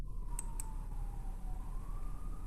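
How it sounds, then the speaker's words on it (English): A faint emergency siren wails at a distance on a New York street, its slowly sliding tone low under a steady background hum, with a couple of brief high clicks early on. "Here's sirens in New York. You hear those?"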